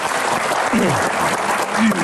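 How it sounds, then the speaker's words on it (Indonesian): A studio audience gives a brief burst of steady clapping for a woman guest, with a voice audible through the applause. "Tepuk tangan dong untuk Ibu Ita."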